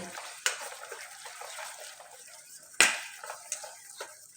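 Milk being stirred a little at a time into a mixture for rasmalai pitha, with soft swishing strokes and two sharper clinks of a utensil against the bowl, close and moderately quiet.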